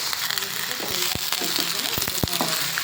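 Onion and potato frying in a pan give a dense, continuous sizzle, with a few sharp knocks and scrapes of stirring near the end, close and fairly loud.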